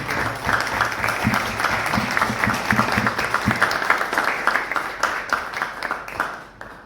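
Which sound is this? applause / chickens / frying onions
applause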